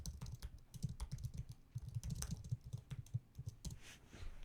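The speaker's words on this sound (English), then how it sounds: "I'm going to type out some more stuff." Fingers type on a computer keyboard with rapid, irregular clicking keystrokes, close and fairly soft, with no talking over them.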